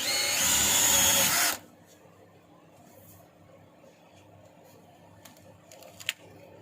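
A cordless screwdriver drives an M-25 cable stripping machine, whirring loudly for about a second and a half before cutting off. Faint handling clicks and taps follow in a quiet room.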